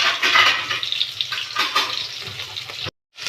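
Loud, close sizzle of tomato and spices frying in a hot pan, continuous and crackly, with a brief silent gap near the end.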